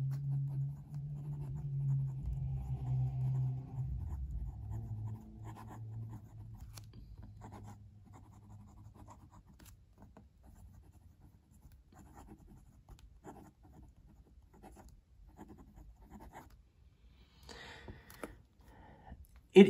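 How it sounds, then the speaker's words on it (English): A Pilot Falcon fountain pen scratches across paper in short strokes, close and quiet, with a faint low hum underneath at the start. "Let's do some writing."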